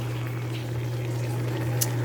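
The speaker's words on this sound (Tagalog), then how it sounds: "Okay, habang kumukulo-kulo." A pot of milkfish paksiw stew bubbles and simmers steadily with a constant low hum underneath, small gurgles rising through a moderately quiet background.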